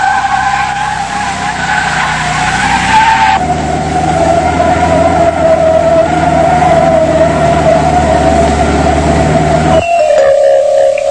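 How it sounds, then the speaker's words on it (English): A Skoda car driven in a circle during a 1982 steering and handling test, producing a loud continuous tyre squeal with engine drone that holds steady, then shifts pitch near the end. "One of the steering and handling tests involves driving in a circle."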